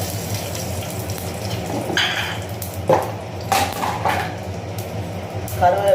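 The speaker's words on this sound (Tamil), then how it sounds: "எண்ணெயை ஊற்றி ஆச்சு கொஞ்சம் கடுகு" Mustard seeds frying in hot oil as a stick dried-fish curry is started, a soft sizzle with scattered sharp pops and a few clinks of a pan and utensil, fairly close.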